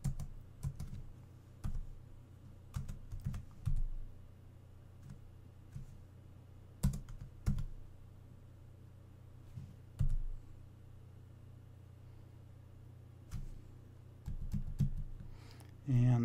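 Code being typed on a computer keyboard: close, crisp key clicks in short irregular bursts separated by pauses, over a low hum.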